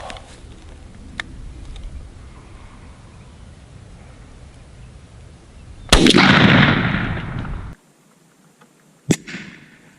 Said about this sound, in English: Federal TSS, 3-inch 7 to 9 shot shell going live.